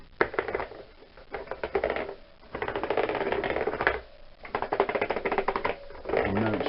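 Rapid mechanical clacking of the keys of a Scandalli accordion with worn pads being pressed, in dense bursts separated by short pauses, close and fairly loud.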